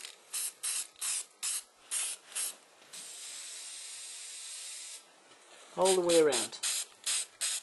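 A spray paint can hisses out a nebula effect on a space painting: quick short spurts, then one long steady spray, then more short bursts, with a voice speaking briefly partway through.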